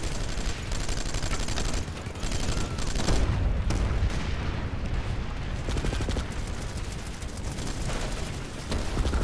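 Dense gunfire in the video game Planetside 2, a continuous barrage of overlapping shots and booms, loud and close throughout with no pauses.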